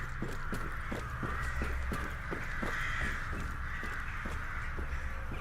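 Crows caw repeatedly in short, evenly spaced calls inside a video game's underground laboratory, sounding moderately distant over a steady ambient hum, with no talking.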